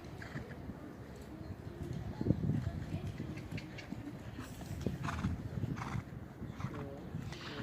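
A horse trots over trot poles and cavaletti during a show jumping round, with steady hoof clip-clops close by, an occasional snort or whinny, and a voice talking at times.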